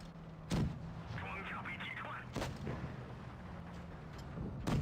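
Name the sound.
M41D tank cannon firing premium round in video game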